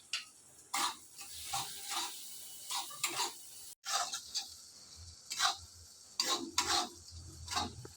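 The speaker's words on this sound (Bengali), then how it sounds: "মশলা ভালো করে ভাজা হয়ে গেছে" Cumin and red chilli powder spices frying in a pan, heard as quiet, intermittent bursts of stirring and scraping over a soft sizzle, with a short gap midway and no talk.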